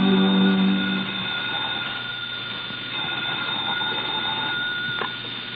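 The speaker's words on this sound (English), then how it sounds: "We find her at her desk as the phone rings." A telephone rings in an office of a shipping line, heard as a steady, fairly loud bell-like tone under a faint hum, with a brief louder burst at the start and no voices.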